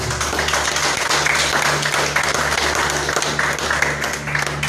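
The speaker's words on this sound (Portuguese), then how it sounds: "Palmas para Jesus." A church congregation claps during a Portuguese-language service, with brisk, steady clapping from many people over a sustained low musical drone.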